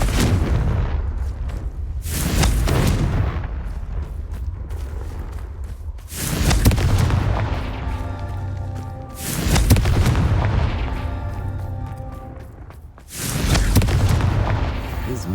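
Repeated booming blasts from the Confringo fire spell in the Hogwarts Legacy video game, four loud broad explosions spaced a few seconds apart, each swelling and rumbling with long low tails.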